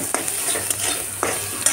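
Chopped garlic frying in a pan for white pasta, a short burst of hissing sizzle with a few soft spatula scrapes, close and loud with no talk.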